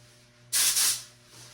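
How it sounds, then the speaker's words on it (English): A paint spray gun sprays car paint on a 1976 Monarch classic car restoration, giving one close, loud hissing burst of about half a second that tapers off. "Mix this up, put it in my gun, and spray it."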